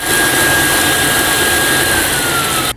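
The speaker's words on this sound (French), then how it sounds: "on va redémarrer les motos, on va les laisser tourner 20 minutes avant de mettre en vidange." Motorcycle engines restarted for an oil-change service, running loud and steady as a dense continuous roar that cuts off abruptly at the end.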